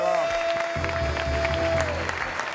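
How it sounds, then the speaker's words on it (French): A studio audience applauds a caller during a live French-language call-in interview, a brief burst of clapping mixed with crowd noise while music and voices carry on beneath it. "Hey, on applaudit pour mon ami, s'il vous plaît."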